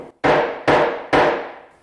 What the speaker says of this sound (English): Insert it into the hole and tap it home.